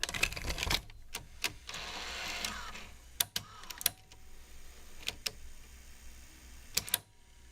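A Sony DAT deck, freshly repaired after faulty transistors kept its motors from working, takes in a test tape: a string of sharp mechanical clicks and clunks with a whirring motor stretch between them, close by and with no talk.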